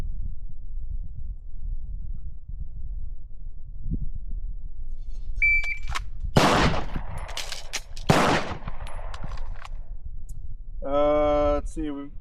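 Two sharp, loud gunshots ring out about a second and a half apart during a magazine reload drill on a shooting range, with a short electronic timer beep earlier and a burst of speech afterward.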